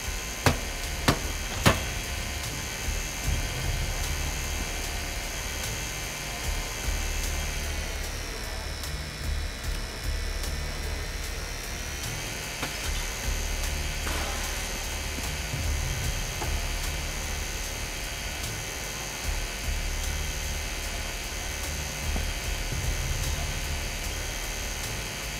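A heist drill in the video game Crime Boss Rockay City grinds steadily, a continuous mechanical whine and hum that sustains for the whole stretch. A few sharp clicks come early on, and the tone briefly dips in pitch partway through.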